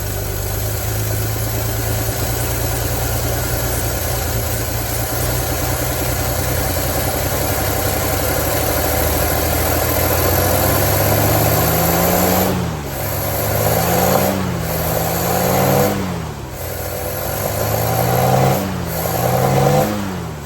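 A 1952 Hudson Hornet Twin H engine idling on revival after long storage, a steady mid-pitched rumble that later swells through several short blips of throttle, each rising and falling in pitch.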